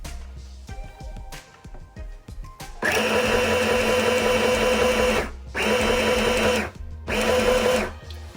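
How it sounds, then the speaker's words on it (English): A Singer M1000 sewing machine, driven by a foot pedal, stitches fabric: a few quiet clicks and handling noises, then three loud sustained runs of fast whirring needle clatter separated by brief pauses, close up with no speech. "I'm gonna start my sewing using my foot pedal."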